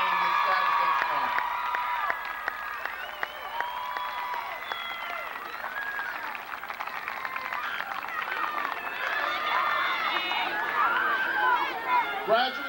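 A high school graduation audience stands and applauds families and friends, giving sustained crowd clapping with some cheering and voices that fills a large hall.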